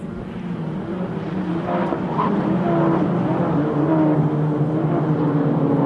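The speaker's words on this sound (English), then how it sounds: "Absolutely incredible racing here at the EuroSpeedway. It is the Volkswagen Scirocco Type R." Volkswagen Scirocco R-Cup race cars from 2011 lapping the EuroSpeedway circuit, their engines blending into one steady, loud roar that swells slightly midway and holds without a break.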